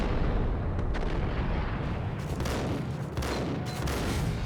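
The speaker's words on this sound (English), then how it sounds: "if you were using a shotgun that close, they would not need 2 shots" Shotgun blasts and heavy gunfire in the shooter game Max Payne, a loud, dense barrage of booming shots and rumbling impacts with brief sharper bursts, sustained across the whole stretch.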